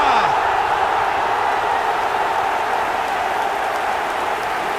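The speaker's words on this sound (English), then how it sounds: "Even some of the opposing fans are clapping that." Stadium crowd in an eFootball match clapping and cheering after a Barcelona goal, a dense steady roar of applause filling the whole stretch at high volume.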